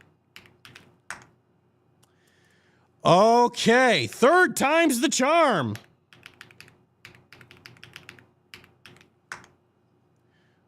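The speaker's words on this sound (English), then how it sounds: "Again, this would be great if I could spell this. I'm not used to this keyboard." Typing on an unfamiliar computer keyboard gives scattered light key clicks at close range, interrupted by a long stretch of loud talking and then resuming in quick irregular bursts.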